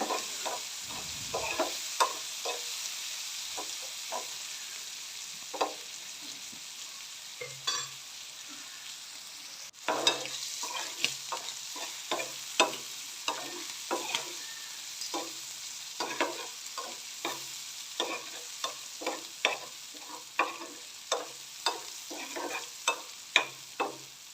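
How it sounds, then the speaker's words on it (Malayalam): Prawns fry in hot oil with a continuous sizzle, while a utensil stirs and scrapes the pan in frequent, irregular knocks and clicks throughout, close and fairly loud. "ചെമ്മീൻ ഓയിലിൽ ഇട്ടപ്പോൾ തന്നെ ചെമ്മീൻ ഫ്രൈ ഇത് സ്മെല്ലടിക്കാൻ തുടങ്ങിയിട്ടുണ്ടായിരുന്നു"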